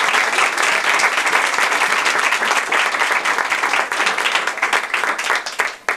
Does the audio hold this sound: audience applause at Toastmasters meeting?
yes